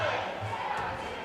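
Crowd noise in a high school gym during the Jesup cheerleaders' performance at a girls' basketball game, a steady murmur of cheering voices, moderately loud.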